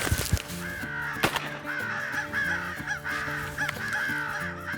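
Crows caw during a crow hunt on public land, giving repeated harsh calls in a steady, close, loud series over a dense layer of other sound.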